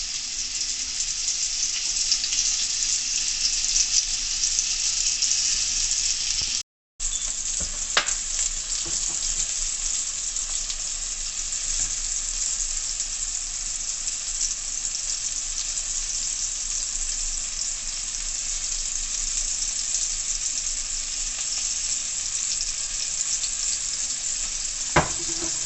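Fish frying in oil in a pan on medium heat, a constant dense sizzle and crackle with scattered pops, close and loud, broken by one brief silent gap, no voices.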